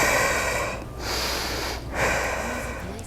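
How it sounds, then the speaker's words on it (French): Deep, loud breaths heard close during a HIIT workout, two long rushing inhale-exhale cycles with brief gaps between them. "2 bonnes respirations"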